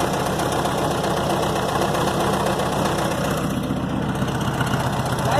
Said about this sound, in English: it's supposed to be the same as the Pinto engine